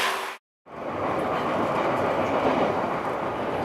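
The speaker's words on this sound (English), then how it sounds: "this is literally one of the coolest trains I've been in" Japanese passenger train rolling along rails on the Izu Peninsula, a steady close broadband rumble with faint clatter, briefly cutting out near the start before resuming continuously.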